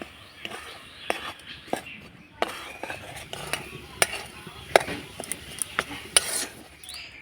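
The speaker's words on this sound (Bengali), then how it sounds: "এবার নাড়াচাড়া করে আমি পুরটা তৈরি করে নেব।" Spoon stirring a coconut and jaggery filling for pitha in a pot, scraping and clinking in irregular bursts against the metal with soft low murmuring beneath.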